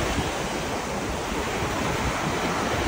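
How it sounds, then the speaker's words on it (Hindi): Sea waves break on a beach as a dense, continuous roar of surf, loud and steady, with wind noise on the microphone and no voices. "आज जो है सी में जो वेव्स है, लहरें हैं, ये भी काफ़ी जो है वो थोड़ा सा हाइट पे आ रही हैं।"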